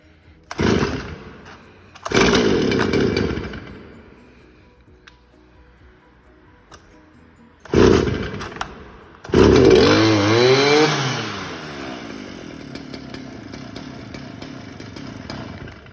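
A Stihl FS400 brushcutter after a fuel pump replacement: two short bursts of the two-stroke engine sputtering on pull starts, then it fires and revs loudly before settling into a rough idle, close by.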